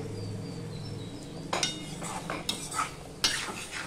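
A spoon stirring rohu fish curry in a kadai, with a quiet simmer at first, then several scraping, clinking strokes against the metal pan at irregular intervals and no voices.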